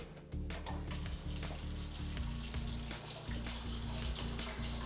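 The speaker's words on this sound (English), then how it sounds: "I'm going to turn on the water for a second and we'll see how it turns" A kitchen sink faucet, checked after a drain repair, runs water in a steady, loud splashing stream into the basin, with a few clunks and knocks in the first moments.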